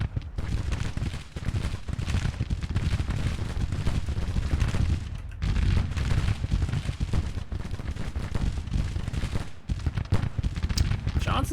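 Musket volleys from a Grand Tactician: The Civil War battle in Cassville, Georgia, a dense, continuous crackle of massed gunfire with booming rumbles, steady and loud throughout, with a brief lull near the middle.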